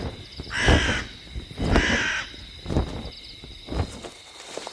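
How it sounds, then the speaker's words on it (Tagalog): A crow cawing nearby at night, about four loud, harsh caws spaced roughly a second apart, with insects chirring faintly in the background. "kapag ang huni ng ibon ay malapit"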